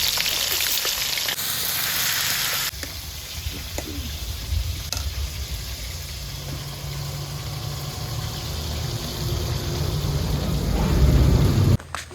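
Fish frying in a pan in a village kitchen, a steady close sizzle with stirring scrapes, joined by a low rumbling hum partway through that swells toward the end.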